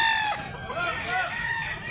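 At a rooster market in Mantalungon, Barili, Cebu, roosters crow up close against a crowded background of fowl calls, a voice briefly present.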